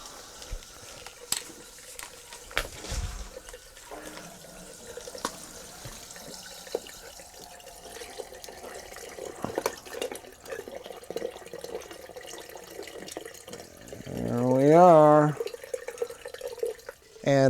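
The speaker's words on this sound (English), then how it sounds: "And now the water's coming out." Water drains from a powervent water heater through a hose, with faint trickling and dripping in a quiet indoor space, a few sharp knocks and clatters, and a brief louder squeal near the end.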